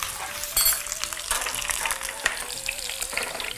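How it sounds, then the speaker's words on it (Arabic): Mosul-style Iraqi kibbeh sizzling in hot oil in a frying pan, giving a steady bright crackle that carries all the way through, with a few small stirring or splashing clicks. "طبعا بمقلاة مثل هذه خلينا الزيت وراح نقلي الكبة."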